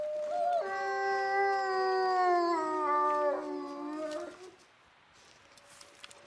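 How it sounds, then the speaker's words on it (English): A wolf in the video game The Long Dark gives a long, loud, close howl that rises and bends in pitch over about four seconds, then fades into near silence. "Yeah, that's definitely a wolf."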